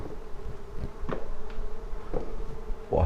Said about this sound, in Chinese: 这里的蜜蜂啊，特别的多，好多的蜜蜂。